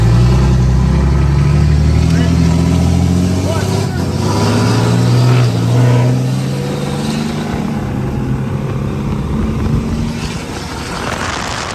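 Ford F150 EcoBoost pickup truck accelerating, its engine note climbing steadily and loud throughout as the truck struggles with a loss of power, with a voice talking over the engine.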